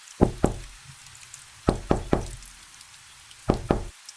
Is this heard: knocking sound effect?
yes